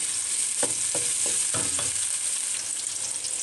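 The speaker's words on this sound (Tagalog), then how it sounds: "I-fry na natin. So, ilagay ko na yung garlic mo." Garlic frying in annatto oil for tripe mechado, a steady hiss with several brief bursts of stirring and scraping in the pan, close and fairly loud, no talking.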